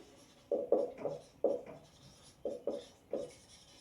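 Pen or marker strokes write a maths equation by hand, up close. About eight short, distinct scratchy strokes arrive in quick bursts with brief pauses between them.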